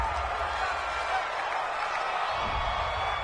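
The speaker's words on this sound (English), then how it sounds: "This home crowd, they're happy with that call." Steady, even roar of a home crowd at a Denver Broncos football game, heard from a distance as a constant wash of noise with no distinct peaks.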